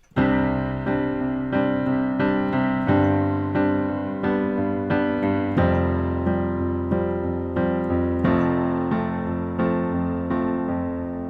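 Piano chords sound on an even pulse while a low left-hand part adds extra rhythmic notes underneath, producing a fuller, more driving pattern.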